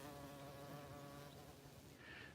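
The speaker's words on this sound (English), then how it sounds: "I hear the bees. There's bumblebees, carpenter bees." Bumblebees and carpenter bees buzz around flowers outdoors, a close, steady droning hum that holds throughout, with no voices.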